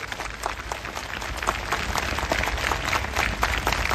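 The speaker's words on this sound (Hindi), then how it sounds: "आइए प्रभु के लिए अच्छी ताली बजाएं" A church congregation claps together in sustained applause, a dense and fairly loud patter of many hands that keeps going without a break.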